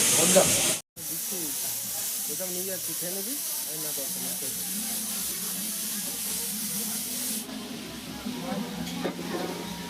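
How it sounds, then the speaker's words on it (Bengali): A pressure cooker whistles with a steady, loud hiss of steam while mutton cooks in a kitchen, with a brief cut near the start and some background stirring noises. "ওদিকে মাটনের সিটি পড়ছে"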